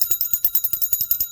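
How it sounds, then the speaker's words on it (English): A small hand bell, rung during a spiritual session, jingles in a quick, even run of about a dozen bright metallic strikes, close and clear, with no talking over it. "Let's ring this bell."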